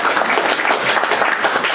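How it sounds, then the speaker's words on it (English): A club meeting audience applauds steadily, dense overlapping claps holding at an even, loud level throughout. "I would like to have a round of applause for these guys"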